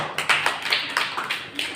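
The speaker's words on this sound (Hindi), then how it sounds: "चलिए दोनों बच्चों के लिए जोरदार तालियां।" Several people in a Jain temple classroom clap for two children, giving a short run of sharp, uneven claps at close range with no talking.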